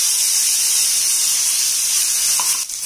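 Prepared masala tipped into a hot pan for a restaurant-style soya chaap curry, giving a loud, steady, close sizzle that hisses evenly for a few seconds before briefly dipping.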